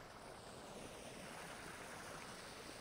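A steady distant rush of a waterfall in the survival video game Vintage Story, a soft continuous broadband wash with no voices over it.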